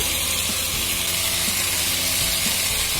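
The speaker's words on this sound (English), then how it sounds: "At this stage, I'm also going to add in my fried onions or barista." Fried onions (barista) sizzling in hot oil while being stirred into Kashmiri pulao, a loud steady hiss and crackle with soft stirring thumps, close and continuous with no talking.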